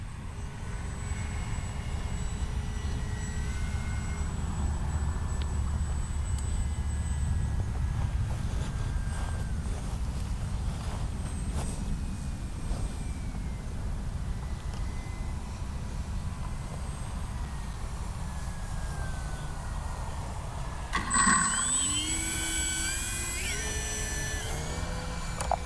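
A Kavan Bristell B-23 radio-controlled model aircraft drones steadily through an evening flight, its engine a constant, moderately distant hum with a brief louder swell near the end.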